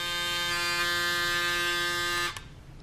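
A Bronze Series 7 electric shaver runs with a steady, loud, strongly harmonic buzz up close for about two seconds, then cuts off abruptly, leaving only quiet room tone.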